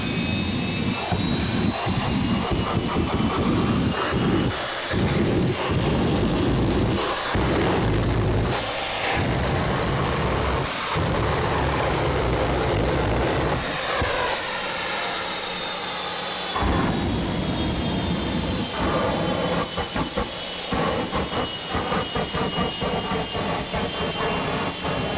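The Hollywood Thunder jet truck's jet engine roaring at a 2001 stunt show, a loud, continuous high-powered rumble and whine with repeated thumping surges, close and overwhelming for the whole stretch.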